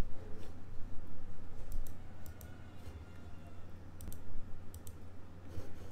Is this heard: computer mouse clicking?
yes